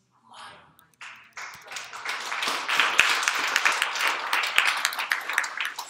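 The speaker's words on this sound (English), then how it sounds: "So this clapping is different." A church congregation clapping together, scattered claps at first that build into steady, loud applause which continues to the end, with talk mixed in.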